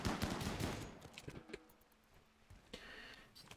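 Rapid gunfire aimed at an emu in RimWorld, a quick burst of sharp shots at the start followed by scattered lighter pops and ticks, fairly faint overall.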